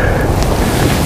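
Strong wind buffets the microphone on a fishing boat, with a low, rumbling roar, steady and loud throughout.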